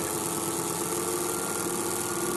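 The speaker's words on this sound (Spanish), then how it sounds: "Fíjense en cómo se empiezan a escuchar las vibraciones que decíamos, el ruido, cómo baja la velocidad considerablemente" An electric motor runs with one supply phase missing, slowed to around 1200 RPM and vibrating, giving a steady loud droning hum with a rough buzzing undertone throughout and no voices.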